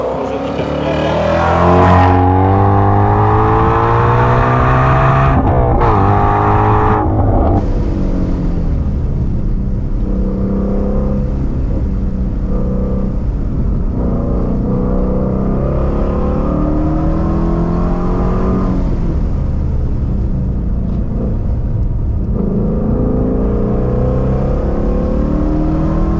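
A Shelby race car engine roars and accelerates hard during a hill climb, loud and close, revving up through repeated gear changes with brief dips between pulls, sustained for the whole stretch.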